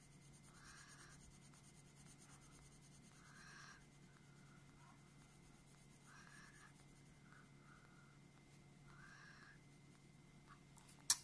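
Colored pencil shading on grainy drawing paper, starting with light pressure and gradually pressing harder: soft, quiet scratchy strokes in short repeated bursts, faint and close, with no talking.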